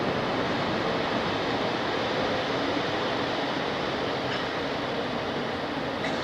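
A passing train gives a loud, steady rumbling rattle that fills the whole stretch as one unbroken wash of noise, with no voices.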